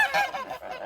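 A goose gives a short burst of loud, nasal honks, two or three quick calls close by with nothing else over them.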